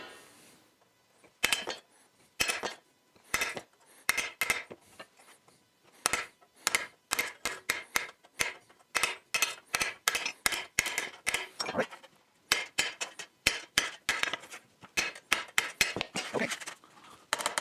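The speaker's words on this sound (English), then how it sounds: "now I'm gonna use a chisel to close that loop up" A chisel closes a wire loop on an old rusty lower fender during repair, giving a long series of sharp metallic taps and knocks in irregular clusters, close and fairly loud, with some speech mixed in.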